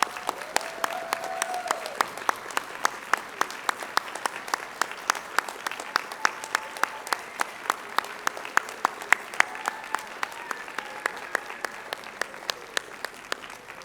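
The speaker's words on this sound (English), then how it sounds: "Graduates, give them a clap." A college commencement audience claps steadily, a dense patter of applause with a few sharper individual claps standing out, continuing without pause.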